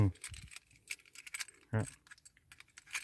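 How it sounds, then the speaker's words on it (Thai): A bunch of car keys for an automatic-transmission car jangles close by in quick, quiet metallic bursts, a few separate shakes with short pauses between them. "แล้วก็จะมีกุญแจของมัน"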